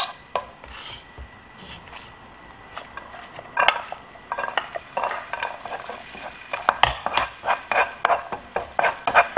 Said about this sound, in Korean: 양파 갈색 나지 않게 투명하게 볶아주시고, 그리고 샐러리.